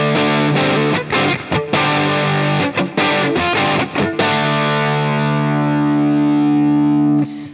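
Distorted electric guitar chords through an Avid Eleven Rack amp modeler's Crunchy 50 preset, strummed in choppy bursts, then a sustained crunchy chord rings out and fades, with no talking.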